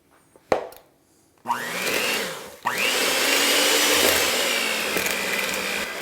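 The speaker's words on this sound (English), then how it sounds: "we're going to take the butter and our sweetener. Doesn't look like it, but we're going to beat it till creamy" An electric mixer beats butter and sweetener for low-carb cookies, starting with a few knocks and brief bursts, then whirring loudly and steadily in a close, continuous drone.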